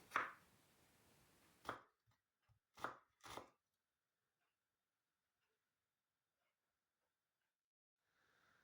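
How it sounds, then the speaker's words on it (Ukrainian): A knife finely chops onion on a cutting board, several quick crisp chops in short bursts followed by quiet. "Дрібно нарізаю цибулю"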